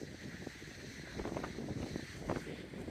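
Wind gusting outdoors on California's Lost Coast near the old Punta Gorda Lighthouse, a constant broad rushing roar with heavy buffeting against the microphone that swells stronger toward the end, with no voices.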